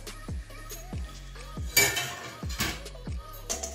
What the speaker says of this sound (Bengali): এবারে আবারও ঢাকনা খুলছি